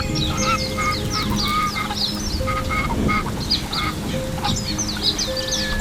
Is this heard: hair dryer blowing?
no